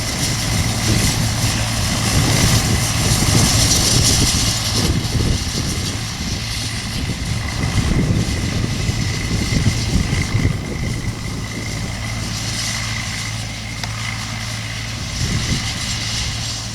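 An old Nuffield tractor engine, pulling chain harrows without a cab, chugs steadily nearby, a loud low mechanical drone with a rhythmic throb that never lets up.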